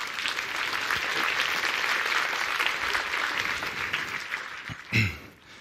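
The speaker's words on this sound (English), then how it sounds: "Let's give them a warm round of applause." Sustained applause from a conference audience, steady and dense for several seconds before tapering off with a thump near the end.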